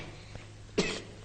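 One short, soft cough in a quiet room, preceded by a faint click.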